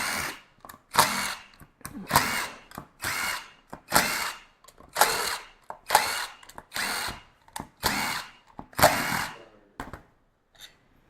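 A power drill or driver repeatedly runs in short bursts, about ten loud whirring pulses with brief pauses between them, as screws are backed out of a valve body during disassembly in a workshop lab.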